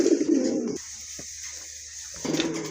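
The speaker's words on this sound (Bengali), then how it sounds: "দেখেন কবুতরগুলো দেখেন" Soft pigeon coos are heard up close, a low burbling call at the start and again near the end, with quiet background hiss between them.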